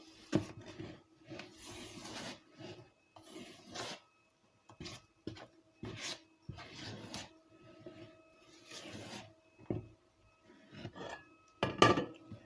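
Quince-compote cake batter is stirred in a bowl in short, close scraping and clinking bursts separated by brief pauses. The strokes are fairly quiet, with no talk over them.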